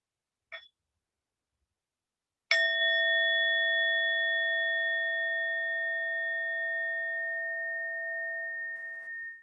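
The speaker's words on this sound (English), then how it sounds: "we'll listen to one sound of the bell" A single meditation bell is struck once, ringing clearly and sustaining a long, slowly fading tone in near silence after a brief faint tap.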